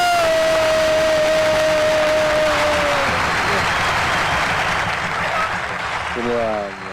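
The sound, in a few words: audience applause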